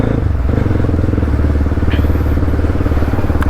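A motorcycle on a short casual ride, its engine giving a steady, close, continuous drone with light road clatter throughout.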